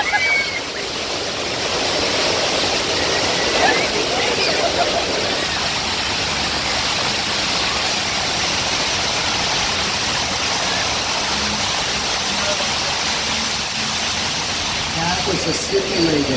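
Water splashing and gushing beside the Universal Studios Hollywood studio tour tram, a loud continuous rushing spray that fills the whole stretch, with riders' voices mixed in.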